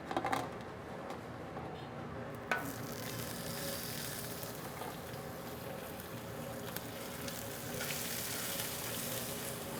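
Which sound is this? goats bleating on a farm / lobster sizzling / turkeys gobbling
lobster sizzling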